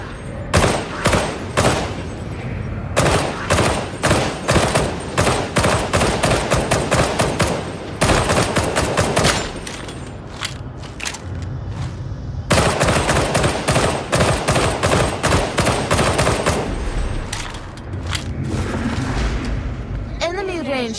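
Rapid bursts of gunfire from Warhammer 40,000: Darktide rattle in dense, loud volleys aimed at ranged enemies, broken by brief pauses, with a voice talking underneath the shooting.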